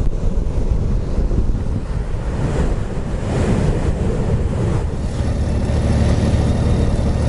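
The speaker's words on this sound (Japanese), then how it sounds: "うわ、波が高い。" Loud surf and strong coastal wind roar together with constant buffeting across the microphone, as high waves break along the shore at the tip of Irago, the broad wash swelling and easing without pause.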